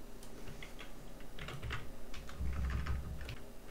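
Rapid typing on a computer keyboard, a close, fairly quiet burst of irregular key clicks with heavier thumps in the middle and near the end.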